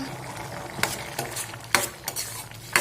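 A spoon stirs salt into bottle gourd and black-eyed pea gravy in a pot, giving several sharp scraping knocks against the vessel over a low, bubbling simmer.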